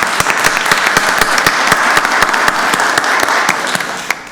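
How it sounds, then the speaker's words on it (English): A loud, steady round of applause for two Milstead village residents at a county board of commissioners meeting, dense clapping from a room full of people that runs the whole time before easing slightly at the end. "Give them a round of applause"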